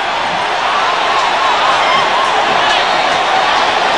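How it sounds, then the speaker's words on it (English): A large crowd at a cricket match roars continuously and loudly after a last-ball boundary, with cheering, shouting and commotion as fans run onto the pitch, all blending into a dense wall of noise. "The crowd's besides itself."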